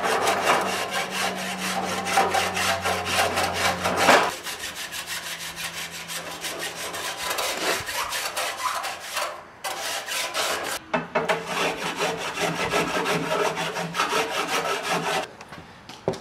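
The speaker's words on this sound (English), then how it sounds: "I've also got this small rasp, and I'll run that up and down to make it a little bit rounder to get the shape" A small hand rasp is worked up and down a wooden stick handle for oxen, rounding its shape with steady, close, rasping strokes that continue without pause and without talk.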